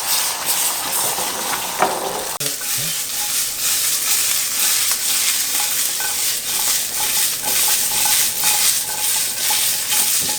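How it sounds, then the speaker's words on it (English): A steady, loud sizzle of mushrooms frying in a hot pan, with scraping and stirring clatter partway through and a constant hiss throughout. "I'm frying the mushrooms now before I add it to the sauce"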